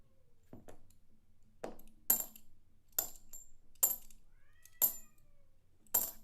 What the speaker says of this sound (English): Don't know why my cat is screaming in the other room